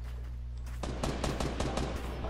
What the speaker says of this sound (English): Just use your sniper rifle ammo.